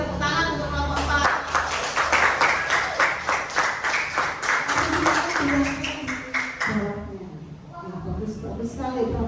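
A classroom of students claps for a group, a dense burst of rapid applause lasting several seconds before tapering off, with a teacher's voice speaking over it.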